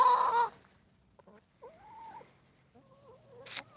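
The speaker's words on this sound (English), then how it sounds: "I'm going to give you guys a couple more shots of the chickens" Chickens on a home property cluck in a few short, separate calls, with a brief burst of noisy clucking at the start and another near the end, all fairly close and otherwise quiet.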